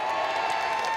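Concert audience at an outdoor festival performance in Gochang, Korea, clapping in a dense, steady wash of applause with some crowd noise, loud and continuous throughout.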